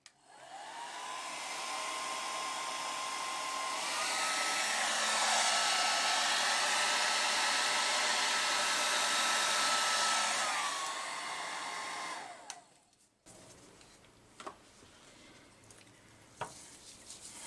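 A hair dryer blows steadily on a Dutch pour of enamel model paint, loud and close for about twelve seconds with a brief pitch shift, then cuts off, leaving faint scattered handling noises.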